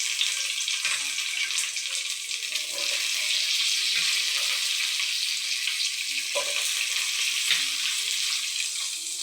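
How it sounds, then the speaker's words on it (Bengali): Capsicum frying in a pan with tempered spices gives a loud, steady, hissing sizzle, with occasional stirring scrapes and no talk. "আমি এবার ক্যাপসিকামগুলো দিয়ে দেব।"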